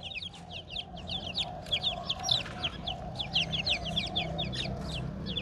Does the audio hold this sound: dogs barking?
no